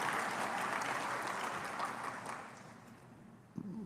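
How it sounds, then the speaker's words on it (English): Applause from the audience at a university graduation ceremony, a full, even wash of clapping throughout that slowly thins out, with a voice breaking in right at the end. "you wanted a clap for Mrs. Adams?"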